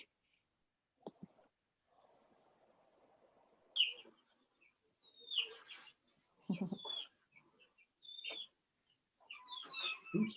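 Young chicks peep in short, high, scattered calls with soft rustling and shuffling between them, close and fairly quiet, no talk.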